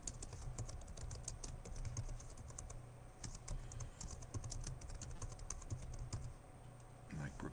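Rapid clicking of keys on a computer keyboard as text is typed in for a Facebook business page setup, a continuous close stream of taps over a low hum, with someone speaking quietly at times.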